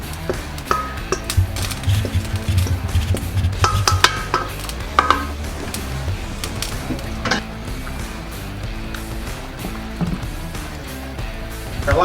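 A chili mixture stirred in an electric pot produces close, irregular scraping and soft clinks of a utensil against the pot over a low background hum.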